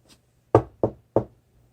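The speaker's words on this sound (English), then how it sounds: "The knock at the door" Three firm knocks at a door in quick succession, sharp and close, over a faint low hum and otherwise quiet surroundings.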